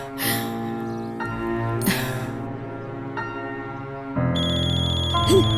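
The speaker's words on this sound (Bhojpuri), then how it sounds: "तो माला के फोन लगता।" A mobile phone rings with an electronic melodic ringtone, loud and close, repeating phrases that change tone partway through, with a few breathy gasps over it.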